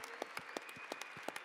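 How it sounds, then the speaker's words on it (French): Audience applause at a French event honoring the Flying Frenchies team, heard as sparse, distinct claps over a steady background hum, fairly faint and brief with no voices. "On peut l'applaudir"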